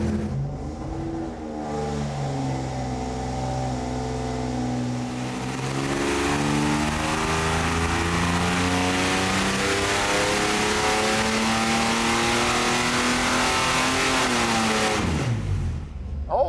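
A Ford 300 inline six on a dyno revs hard and steadily climbs, its loud harmonic drone rising in pitch over many seconds before dropping sharply as the throttle is cut.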